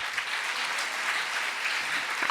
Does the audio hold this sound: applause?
yes